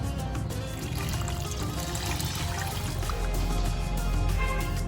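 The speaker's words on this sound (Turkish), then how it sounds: "Soğuk suyumu ekledim." Cold water poured from a container over thinly sliced, salted potatoes in a bowl, a steady close splashing pour running continuously with no voices.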